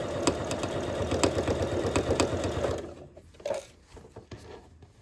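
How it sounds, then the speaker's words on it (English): A sewing machine stitches a fleece beret with the lining side up, a fast steady mechanical chatter up close for a few seconds, then it stops and leaves a few faint handling clicks. "lining side up onto my sewing machine, and I'm going to stitch"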